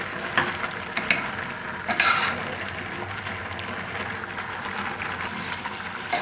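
Mixed halwa cooking over a full gas flame while being pressed and stirred with a spoon, giving a steady close-up scraping, stirring and soft sizzle with a few sharper clinks against the pan, and no talking.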